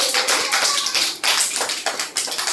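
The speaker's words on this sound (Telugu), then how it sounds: "అందరు క్లాప్స్ కొట్టండి." Children in a classroom clapping together, a dense, steady round of applause with many hands close by, continuous and lively throughout.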